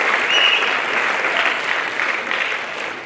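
Sustained applause from a school audience at a junior high school play in Nairobi during the credits, a dense, even wash of clapping that continues throughout at moderate loudness.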